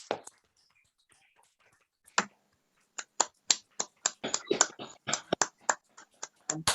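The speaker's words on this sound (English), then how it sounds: "Please have a hand of applause for Jonty." A small audience at a poetry reading gives sparse applause, a handful of sharp, separate claps that begin after a pause and continue unevenly, close and crisp against near silence.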